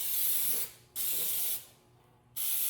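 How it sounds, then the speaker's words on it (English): Baking spray hisses from an aerosol can onto a cake pan over a kitchen sink in two short bursts with a brief pause between, close and fairly quiet. "And I'm spraying it over the sink as I usually do"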